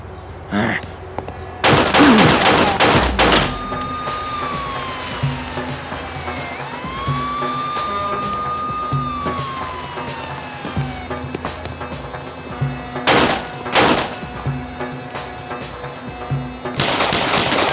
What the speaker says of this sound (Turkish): E, Moro'ya sıkmıyorlar, bize sıkıyorlar.